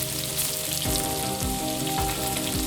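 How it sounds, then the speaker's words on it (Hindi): Gola kebabs fry in a few tablespoons of oil in a pan, giving a steady, close sizzle throughout, with light clinks or stirring noises and no talking. "इसमें अब मैं ये सारे कबाब ऐड करके फ्राई करूँगी"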